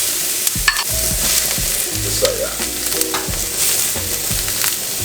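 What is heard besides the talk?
sauteing garlic, bell peppers, onions, mushrooms in a pan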